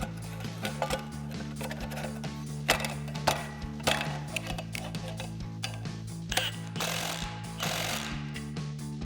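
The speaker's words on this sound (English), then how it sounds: "to tighten this bolt down, we're going to be using a 15 millimeter socket and an impact" An impact wrench with a 15 mm socket tightens the clamp bolt on a Magnaflow Overland Series single exhaust for a Jeep Gladiator JT. It gives a loud, steady hammering rattle in close repeated bursts, with no voices.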